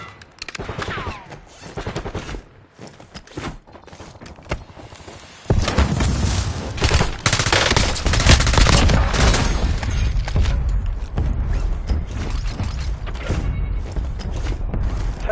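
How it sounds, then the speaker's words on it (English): Gunfire in Call of Duty Warzone, sparse shots and mechanical clatter early, then a loud sustained barrage of rapid bursts and impacts from about the middle onward, close and dense with little talk. "I'm taking fire!"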